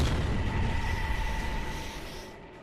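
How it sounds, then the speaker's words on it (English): Loud bang of an explosion on an aircraft carrier flight deck beside Skyhawk jets on the catapult, heard as a sustained roaring boom that slowly fades over a few seconds. "Suddenly, there's a flash and a loud bang."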